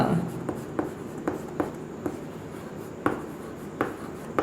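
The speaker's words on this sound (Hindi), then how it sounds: "चलिए, तो परिभाषा लिख देता हूं मैं।" Writing out a physics definition by hand, with a steady series of soft, close scratchy strokes repeating roughly every half second, heard alone without voices.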